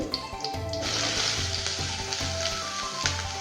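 Chopped onion frying in a hot pan for a vegetable sukka: a steady, bright sizzle close by, continuous and even, with faint stirring or scraping under it.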